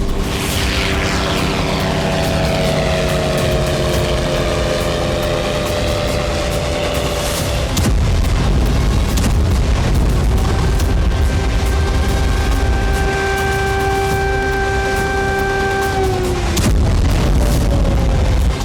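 Loud roaring attack drone engines with whining pitch shifts, broken by heavy booming explosions in a Russia–Ukraine war strike, continuous and close throughout.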